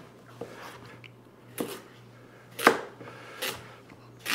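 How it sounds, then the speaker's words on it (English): A knife cuts carrots on a board: five distinct, unevenly spaced chops, close and fairly crisp, over a low steady hum. "Now, let's get our carrots cut up."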